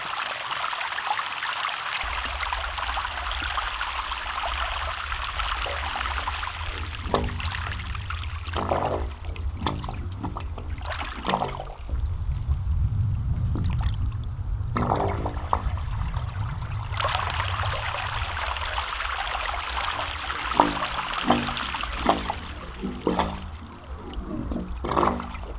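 Water pours and gurgles steadily through a freshly cleared drain at a racetrack, a continuous rushing flow with a deeper churning swell midway, fairly close and with no talking.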